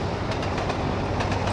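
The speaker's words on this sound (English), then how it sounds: "I'm assuming that is the train that was holding us up." In the Trainz Plus simulator, passing train cars rumble steadily at close range, with repeated wheel clacks over rail joints and a constant low roar.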